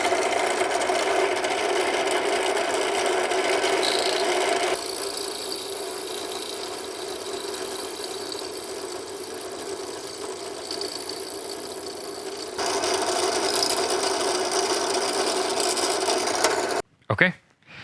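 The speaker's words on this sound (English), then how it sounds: "For the first pass, I'm gonna use a 3mm drill" A steady, close whine of a power drill with a 3mm bit runs for over fifteen seconds, its pitch shifting partway through, then cuts off abruptly followed by brief knocks.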